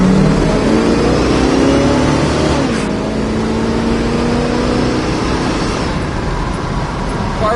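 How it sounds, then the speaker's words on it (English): A 1970 Ford Mustang Mach 1's 351 V8 engine drones loudly from inside the car, revving and pulling as it accelerates, with a gear change partway through and road noise throughout. "Car pulls just like it should."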